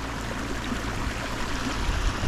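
Water runs steadily down a small backyard pond waterfall, a continuous close rushing and trickling wash with no pauses and no voices.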